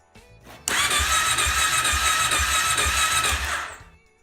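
A Kawasaki Brute Force ATV engine cranks over on the starter during a compression test on its second cylinder, a loud steady whir with about eight even rhythmic compression pulses lasting roughly three seconds before winding down, no voices.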